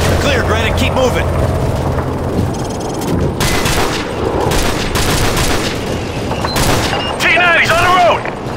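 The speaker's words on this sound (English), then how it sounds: "we have Russian tanks firing on Granite's position" Russian tanks firing and rapid gunfire in Call of Duty Modern Warfare 3, a continuous loud barrage of shots and booms with bursts of automatic fire and radio chatter over the battle.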